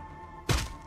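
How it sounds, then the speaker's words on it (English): A weapon jams in the video game Wasteland Remastered, giving one short dull thunk with a crack over a steady electronic hum, close and brief. "Oh, weapon jam."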